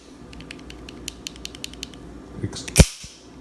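Small clicks and creaks from the play in the mechanism of a Microtech HALO OTF knife: a run of faint ticking rattles, then a sharper metallic snap near the end, close and quiet with no talking.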